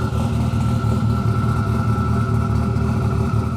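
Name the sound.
1100HP Mitsubishi Evo engine idling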